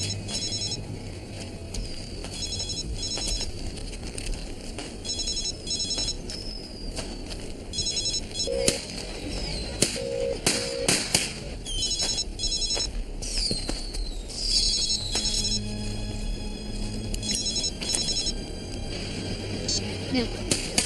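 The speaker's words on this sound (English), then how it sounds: "The phone." A telephone rings in a quiet room in a TV crime drama, with repeated short electronic ring bursts coming at regular intervals against a low background hum, and occasional other faint noises in between.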